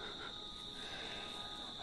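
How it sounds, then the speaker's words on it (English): Cicadas sing in a steady, high, unbroken buzz that fills the whole short stretch at a moderate distance, with no voices over it. "Here comes the cicadas to join me."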